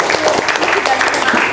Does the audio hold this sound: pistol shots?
no